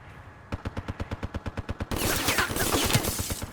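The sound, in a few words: gunfire in an arena shooter video game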